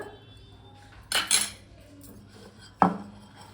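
A utensil stirs a curd mixture in a clay pot, giving two sharp scraping clinks about a second and a half apart against a quiet background.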